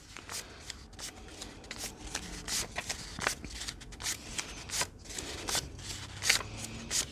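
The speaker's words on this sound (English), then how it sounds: "Just dealing my cards." Playing cards being dealt, a quick series of crisp flicks and snaps at an uneven rhythm, close and fairly soft, with no talking.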